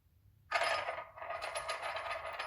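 A rattleback toy spun on a hard surface, sliding into a sudden loud scraping rattle that keeps chattering steadily and close by.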